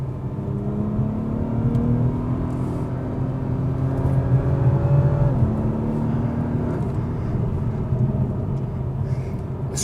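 An Acura TLX Type S accelerates along a backroad, its engine droning loudly and steadily with rising and shifting tones as it pulls through corners, heard alone without talk.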